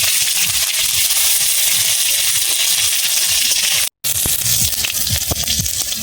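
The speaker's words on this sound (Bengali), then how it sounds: "টমেটো ভেজে নিচ্ছি দিয়ে ওর সাথে একসাথে" Tomatoes and chillies fry in a pan with five-spice, giving a loud, steady sizzle and crackle that runs almost unbroken, with a brief gap near the end and no voices.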